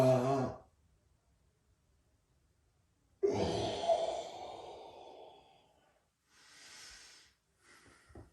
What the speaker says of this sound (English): Breathing deep all the while